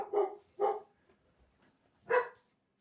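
A dog barks three times nearby, two quick barks in close succession then a pause before a third, with near silence in between.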